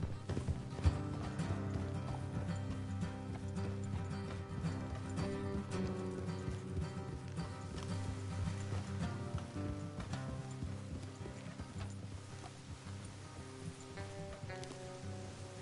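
Horses trot along a road in the Red Dead Redemption video game, a steady clip-clop of hooves with a soft sizzling background texture, continuous and moderately quiet, with no talking.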